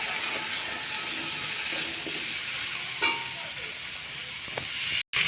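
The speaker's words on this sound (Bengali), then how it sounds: "নেড়ে ছেড়ে আমি জল দিয়ে দেবো।" Steady loud sizzling of vegetables frying in a pan for Bengali shukto, with a brief sharper burst around the middle as the pan is stirred, hissing continuing throughout.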